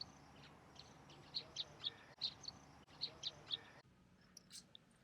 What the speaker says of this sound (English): We got birds on a wire.